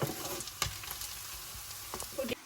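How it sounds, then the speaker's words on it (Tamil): Onions fry to golden brown in a pan for a fish curry, a faint close sizzle broken by a few quick spatula scrapes and stirring knocks, with no voice. "இது கொஞ்சம் நல்ல பொன்னிறமாக வதங்க விடணும் இப்போ வந்து பொன்னிறமாக ஓரளவுக்கு வதங்கி வந்துட்டு"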